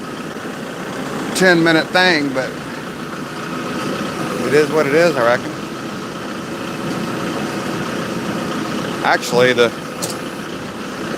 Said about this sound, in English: I don't really like starting the tractor when it's this cold out